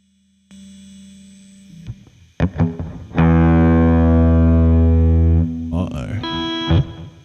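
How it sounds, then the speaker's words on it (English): Synthesizer notes pushed through a distortion effect, starting with clean tones and then swelling into a loud, buzzing, harmonically rich sustained chord that holds for a few seconds before shifting pitch. "But if we add distortion..."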